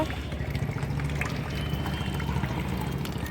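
Water runs from an open tap in a steady, unbroken rush with a faint gurgle, filling the space at moderate volume.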